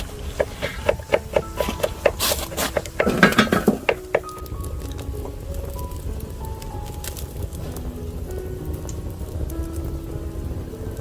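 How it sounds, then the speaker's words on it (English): Crackling wood fire beneath a Sadj grill cooking beef steak kebab outdoors, with sharp pops and clatter of metal cookware early on, then a steady soft crackle and hiss continuing alone. "The fire crackles, the Sadj grill heats up,"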